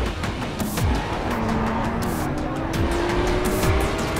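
A car accelerates hard in the racing video game The Crew, its engine whining upward in pitch with tire squeal and skidding noises, loud and continuous without pause.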